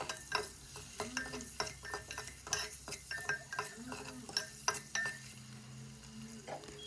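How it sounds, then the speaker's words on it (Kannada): Five boiled eggs being sautéed in a pan for egg biryani, with a steady soft sizzle beneath repeated scraping and clinking of a spoon against the metal pan, close by, no voices. "ನಾನಿಲ್ಲಿ ಐದು ಮೊಟ್ಟೆ ತಗೊಂಡಿದ್ದೀನಿ ಚೆನ್ನಾಗಿ ಬಾಡಿಸ್ಬೇಕು"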